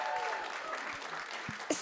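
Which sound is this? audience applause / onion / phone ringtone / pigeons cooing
audience applause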